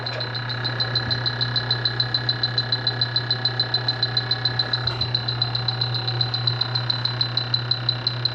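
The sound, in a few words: refrigerant leak detector beeping faster near a leak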